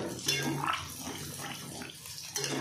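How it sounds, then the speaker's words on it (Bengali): Spiced water, left over from grinding masala, pours into a pan of soybean and potato curry, giving a close, steady splashing and sizzling wash that runs for a few seconds and swells again near the end. "এবার আমি এর মধ্যে অ্যাড করব জলটা যেটা আমি মশলা বেটে রেখেছিলাম"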